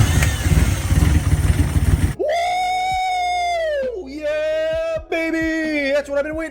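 After some noisy clatter, an engine fresh from an NGK spark plug change starts and runs rough with a loud, uneven buzzing idle that dips and surges several times.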